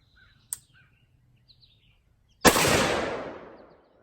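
A 458 SOCOM big bore AR-15 rifle fires a single loud, booming shot outdoors that rings out and decays slowly, preceded by a sharp metallic click, with faint bird chirps in the background.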